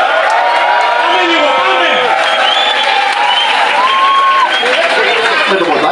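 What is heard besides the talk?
crowd applauding and cheering to welcome the performer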